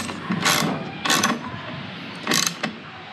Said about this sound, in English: Come back and tighten your top bolts.